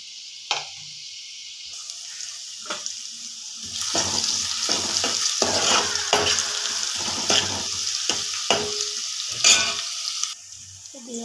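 Garlic, green chillies and onion frying in a pan, a steady hiss and sizzle with repeated scraping stirs close up, starting after a few brief taps and continuing loudly to the end.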